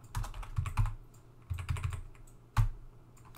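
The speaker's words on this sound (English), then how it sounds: "If I type lowercase o" A Vim command is typed on a computer keyboard during a machine organization lecture, with quick bursts of close, crisp key clicks separated by short pauses. No voice is heard.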